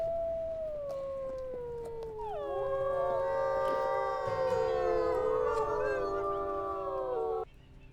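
In the video game WolfQuest, a wolf pack howls: one long, sliding howl rises alone, then several overlapping voices join in a wavering chorus for several seconds before it cuts off.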